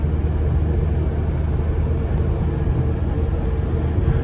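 Inside a low-mileage 1998 C5 Corvette on the move, a steady, moderate engine and road rumble holds even throughout with no talking.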